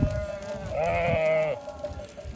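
Sheep and lambs bleating on a farm: one clear, wavering bleat rises out of low background rustle near the middle and lasts under a second, close to the microphone.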